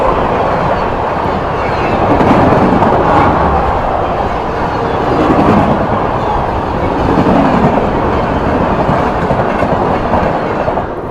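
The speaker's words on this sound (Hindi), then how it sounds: "सामने से आती हुई रक्सौल आनंद विहार सद्भावना।" The Raxaul–Anand Vihar Sadbhavana Express rolls past at close range: a loud, continuous rumble with rhythmic clickety-clack of wheels over rail joints that swells and eases slightly as the coaches go by.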